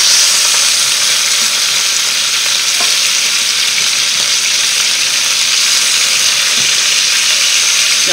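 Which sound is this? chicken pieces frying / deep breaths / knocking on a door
chicken pieces frying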